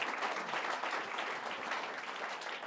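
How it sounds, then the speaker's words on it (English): A big round of applause from an audience at an evening talk event fills the whole stretch as dense, even clapping with no talking. "let's give him a big round of applause, please"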